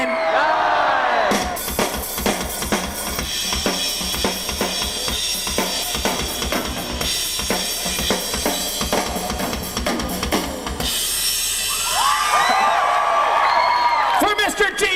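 A large audience screams and cheers in one continuous loud roar across the whole stretch, with a brief swell and a sudden drop near the end.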